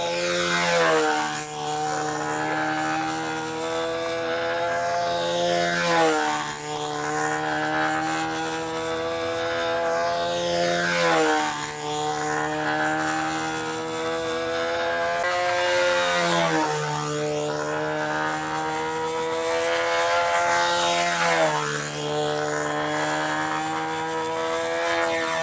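A battery-powered model airplane flies in wind, its electric motor whining steadily with repeated rising and falling pitch sweeps as it passes back and forth, loud and continuous throughout.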